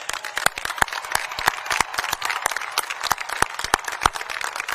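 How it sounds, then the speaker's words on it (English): Dense crowd applause at a graduation ceremony, steady rapid clapping from many hands at moderate volume throughout. "a big round of applause for the class of 2026"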